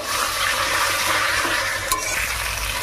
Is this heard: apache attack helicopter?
no